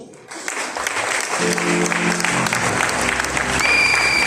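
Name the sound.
audience applause and cheering at a wedding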